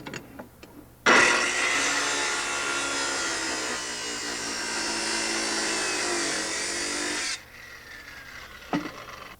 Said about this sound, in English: Instead of the hammer, we'll use this circular saw with a masonry cutting blade, and I'll score the brick on the side that shows.